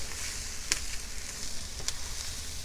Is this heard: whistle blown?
no